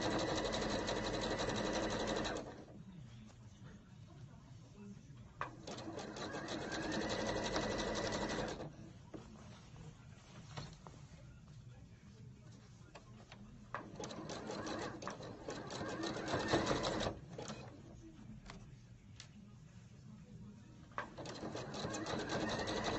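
Sewing machine zigzag stitching elastic onto jeans, running in bursts of rapid mechanical clatter with quieter pauses between runs, close and clear.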